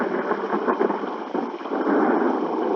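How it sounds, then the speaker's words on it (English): Steady rain with a low thunder rumble in a video game set in a city district with skyscrapers, a continuous dense wash of noise at an even level with no talking. "The rain actually affects performance quite a lot"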